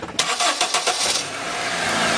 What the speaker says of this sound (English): Next we're going to start the car and let it run.